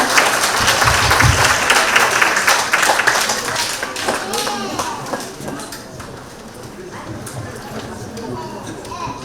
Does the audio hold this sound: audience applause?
yes